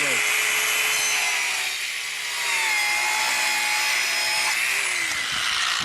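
DualTools CS450 power saw cutting through wood flooring, a steady loud whining cut held for about six seconds with only a brief dip in pitch partway through, heard up close.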